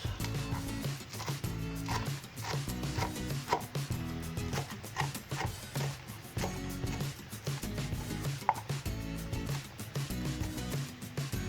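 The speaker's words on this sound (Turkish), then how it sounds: "Bunu maydanozlarımızı doğruyoruz." Quick, uneven knife strikes chopping parsley tap against a board in a steady flurry, close up and fairly quiet.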